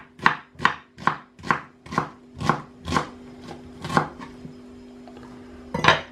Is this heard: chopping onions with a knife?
yes